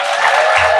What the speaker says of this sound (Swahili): Basi tumshukuru Mungu kwa makofi na vigelegele.